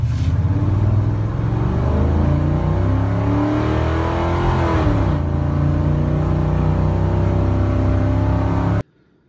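A pickup truck with a fuel-injected 302 engine and about 180,000 miles revs and accelerates, loud and close, its pitch climbing through gear shifts before cutting off abruptly.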